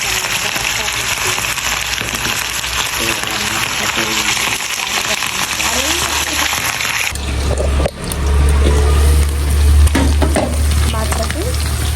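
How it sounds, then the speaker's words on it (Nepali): Marinated fish frying in a pan of oil gives a dense, close crackling sizzle that grows louder and heavier partway through, with a low rumble joining in and faint voice sounds at times. "माछा चाहिँ अघि मोलेर राखेको थिएँ सो अब म चाहिँ तार्दैछु"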